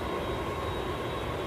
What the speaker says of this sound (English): EasyJet on the way to the Isle of Man